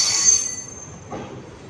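A passenger train on the Karur to Madurai line gives a brief high metallic wheel squeal that fades, followed by a low rumbling rattle.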